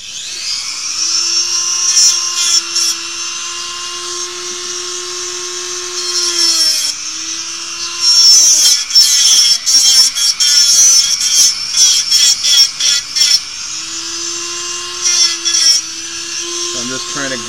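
A small power tool grinds and cuts a little metal knob, a high-pitched steady whine with bursts of rougher grinding as it bites, close and loud, while a person talks over it.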